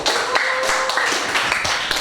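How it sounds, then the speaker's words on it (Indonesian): Students clapping hands in a classroom, a brief burst of quick, overlapping claps from several people, close and moderately loud. "coba tepuk tangan dulu"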